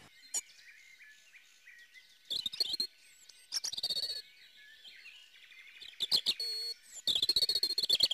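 A pair of European robins at their nest give bright, high chirps and short twittering bursts, coming in scattered clusters with quiet gaps between them, close and clear against a faint background.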